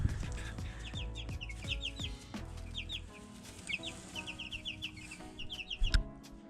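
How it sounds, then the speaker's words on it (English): Several chickens cluck and squawk in short repeated bursts, fairly close, over a low background rumble with occasional knocks. "See chickens?"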